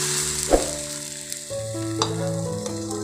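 Fried raisins and ghee are poured into thari kanji, a semolina porridge, giving a close sizzle with a few sharp splashes and clinks over a steady hum.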